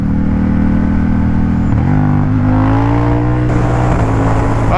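A Ducati Diavel motorcycle engine drones steadily at high revs, its pitch climbing in stages as it accelerates, loud and close with constant wind rush.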